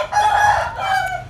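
A rooster crows once, loud and close, a strained rising call trailing off after about a second.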